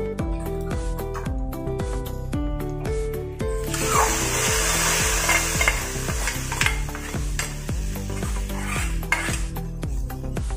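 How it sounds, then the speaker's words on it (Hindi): A hot tempering pours into a pan of ambadi and jowar vegetable dish with a burst of sizzling, then steady frying hiss while a utensil stirs and scrapes rhythmically against the metal. "अभी जो हमने तड़का तैयार किया है वो इसमें डाल देंगे"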